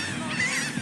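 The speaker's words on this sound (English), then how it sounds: "The seagulls was out looking for food." Seagulls calling on a beach while foraging for food, a brief squawking cry rising over steady surf and wind noise, moderately faint and without speech.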